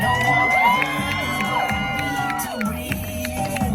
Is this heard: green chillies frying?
no